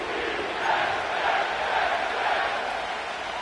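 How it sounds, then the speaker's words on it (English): Stadium crowd in the American football game Madden NFL 25 at MetLife Stadium in East Rutherford, New Jersey, a dense, steady roar of cheering and shouting that swells slightly and fills the whole moment. "The crowd is definitely ready."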